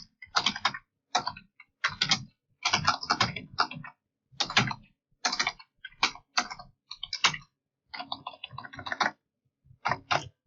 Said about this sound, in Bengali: তো বাংলা ইংলিশ আপনারা এভাবে টাইপ করতে পারবেন।